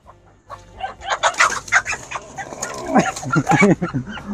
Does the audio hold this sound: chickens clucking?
yes